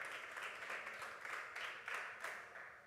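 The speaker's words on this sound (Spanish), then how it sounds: "Denle un aplauso al Señor" Church congregation applauding during a Spanish-language teaching service, a steady wash of many hands clapping with rhythmic swells, fairly close and continuous without talk.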